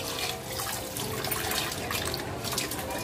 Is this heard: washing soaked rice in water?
yes